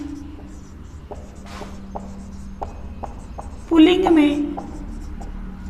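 Chalk taps and scratches on a classroom board in short strokes, fairly quiet, followed by a louder scraping passage. A teacher speaks briefly in Hindi over the writing.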